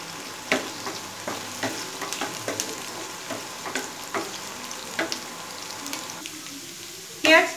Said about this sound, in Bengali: পেঁয়াজটা যেই হালকা একটা কালার চলে আসবে, হালকা ব্রাউন কালার চলে এসেছে